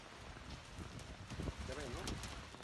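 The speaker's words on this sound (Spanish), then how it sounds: "Así, con fuerza caía el granizo esta tarde en Ponferrada" Hail falls hard during a summer storm in Ponferrada, a dense steady patter and crackle of many small impacts, fairly faint and continuous, with a few brighter clatters and a low rumble underneath.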